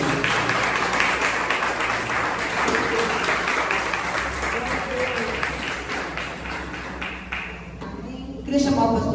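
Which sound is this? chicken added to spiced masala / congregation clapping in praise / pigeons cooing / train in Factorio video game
congregation clapping in praise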